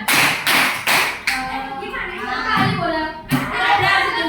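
A fifth-grade primary school class claps in unison, first three crisp separate claps, then a pause while a voice speaks, then another single clap.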